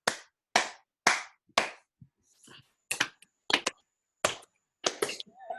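Call-and-response clapping in a group behaviour-management exercise: four sharp, evenly spaced claps, a short gap with faint rustling, then four answering claps that are slightly looser and less even.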